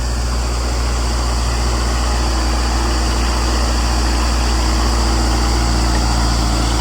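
A tractor hauls a rotavator deep through a field soil bed, its engine roaring loudly and steadily at close range with a constant low rumble and no pauses.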